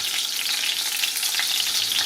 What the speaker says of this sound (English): Now we're going to heat a tablespoon of oil in a wok or frying pan.